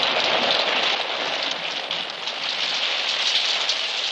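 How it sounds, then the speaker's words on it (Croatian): Heavy rain mixed with hailstones pours down in a dense, steady hiss of drops striking a surface, continuous and fairly loud with no voices. "Padaju kaplje kiše i zrnca tuče vratolomnom brzinom"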